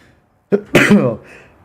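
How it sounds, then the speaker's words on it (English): A single sharp sneeze bursts out close up, a quick intake followed by an explosive, breathy release, then quiet. "I'm going to sneeze."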